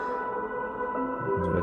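Piano played through the built-in speakers of a 2022 Zephyrus G14 laptop, sustained tonal notes ringing steadily at moderate level, with a few lower notes entering near the end.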